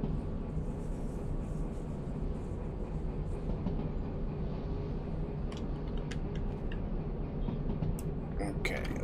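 A train coasting on rails in the game Derail Valley rumbles continuously with a low, even roar and occasional clicks and knocks toward the end. No voices break through.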